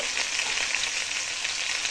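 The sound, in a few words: potatoes and pointed gourd frying in oil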